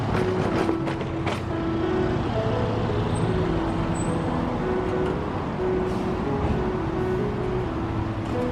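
Steady, dense road traffic on Tokyo's Metropolitan Expressway Uno line above Showa-dori, a continuous loud roar of cars, buses and trucks with low engine rumble and an occasional brake hiss, no voices.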